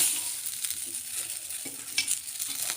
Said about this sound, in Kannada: ಚೆನ್ನಾಗಿ ನೀಟಾಗಿ ಫ್ರೈ ಮಾಡ್ಕೋಬೇಕು